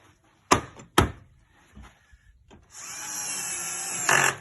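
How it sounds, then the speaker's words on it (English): A power drill drives screws into a UPVC door lock, with a few sharp knocks and taps first, then a steady whirring drill run of over a second that ends in a louder burst. "I'm just going to stick two screws back in here, just to hold it in place while I check the lock"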